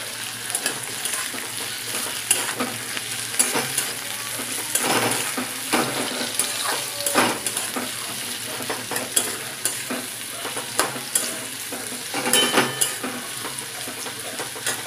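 Onions frying in a pan: a constant close sizzle broken by repeated scraping stirs and clinks, with no voices.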